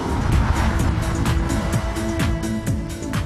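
A 2008 Suzuki Hayabusa motorcycle with a 1340 cc engine rides by with a steady, loud engine roar and shifting pitch, a few sharp bursts breaking through the continuous drone.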